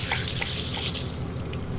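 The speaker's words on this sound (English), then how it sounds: "Now we are going to run a little water through this to get the charcoal out of it." Water runs steadily through a hose and charcoal RV water filter at a campground hookup, a continuous close hiss and splash with no pauses and no talk.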